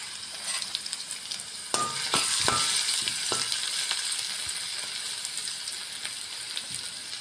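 Ginger-garlic paste and batter being mixed in hot oil in a pan, a continuous sizzle broken by several sharp spatula scrapes and knocks near the start.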